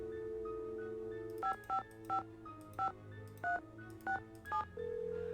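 Telephone keypad dialing in the Nancy Drew game Message in a Haunted Mansion, a steady dial tone followed by eight or so evenly spaced DTMF beeps, clear and close, ending as a ringing tone begins, no talk.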